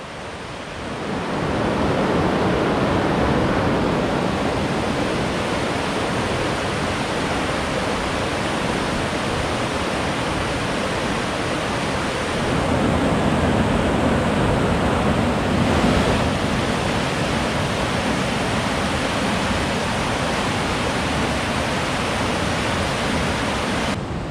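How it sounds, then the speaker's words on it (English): A mountain river rushes far below a quiet walkway in a steady, broad roar that runs unbroken throughout, fairly loud, with no voices. "It's pretty though, the river rushing down there."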